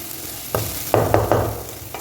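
Chicken frying in a kadai, a steady sizzle with several scraping stir strokes of a spatula against the pan, close and moderately loud with no voices.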